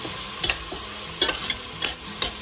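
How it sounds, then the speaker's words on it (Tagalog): A spatula stirs broccoli, mushroom and browning pork in a pan, making several distinct scraping clacks at regular intervals over a soft, continuous sizzle. "Haluin ulit natin."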